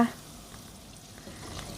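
Battered pork deep-frying in a pot gives a steady, close, moderately loud sizzle and crackle of hot oil, running continuously and alone for under two seconds.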